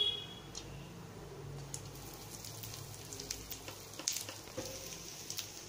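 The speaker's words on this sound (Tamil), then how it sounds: "எண்ணெய் சூடாயிருச்சு. இப்ப அதோட கடுகும் பெருங்காயமும் பெருங்காயத்தூளும் போட்டு நல்லா வதக்கிக்கலாம்." Mustard seeds and asafoetida frying in hot oil, a faint, thin sizzle with scattered small pops and crackles that pick up toward the end, heard alone.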